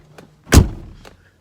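A single solid thump of a 2006 Ford GT door shutting nearby, with a short low rumble fading after the slam.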